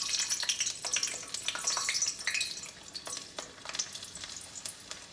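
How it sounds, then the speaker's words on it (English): Steady crackling sizzle of a garlic clove frying in a pan, with scattered louder pops and spatters throughout, close by and without any talking. "so we want to go ahead and start frying"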